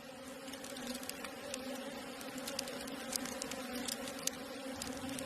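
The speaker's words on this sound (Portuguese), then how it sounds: "Estes filhotes são a próxima geração de produtoras de mel da colmeia." Honeybees swarm around their hive in a steady, droning hum with faint scattered ticks and clicks over it, heard alone without any voices.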